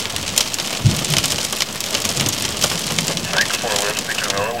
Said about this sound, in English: Yep, we're still getting some hail with this.